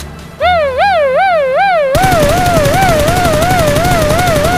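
Video-game gunfire aimed at a vehicle's tire: a rapid burst of automatic shots rings out loud and close over a wailing, rising-and-falling siren-like tone that runs throughout.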